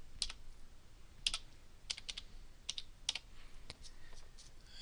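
Quick keystrokes on a computer keyboard, typed while naming a new desktop folder, come in short irregular bursts of crisp clicks, close and fairly quiet, with no voices.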